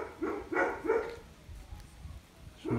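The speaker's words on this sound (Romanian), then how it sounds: "Și în stradă acolo m-au lătrat alți câini." Dogs bark at a cemetery entrance in Constanța, a run of three sharp barks followed by quieter background noise and one more bark at the end, heard from a bicycle.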